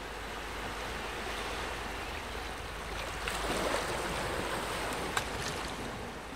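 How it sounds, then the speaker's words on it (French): Aboard the wooden sailing ship Hermione, sea waves wash and wind blows steadily through the sails, forming a continuous moderate whooshing bed with a few faint creaks and knocks. "la mer, le vent, les voiles et le bois du navire"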